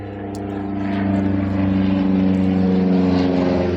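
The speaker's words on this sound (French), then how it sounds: "Alors, on va laisser l'avion passer." A propeller airplane passing overhead, its low droning engine hum swelling steadily louder as it approaches, with no talk over it.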